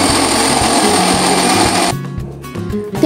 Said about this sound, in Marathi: हे सर्व साहित्य मिक्सरला बारीक वाटून घ्यायचे